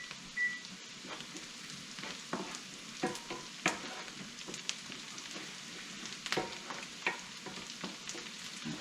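Onions frying in a pan for cheesy broccoli soup, a steady soft sizzle with frequent light scrapes and taps of stirring, fairly quiet and close, with no talk.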